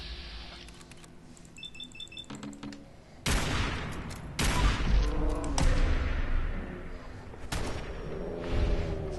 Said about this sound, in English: Just keep shooting him in the head.